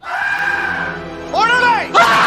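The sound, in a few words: scream from an X-Files episode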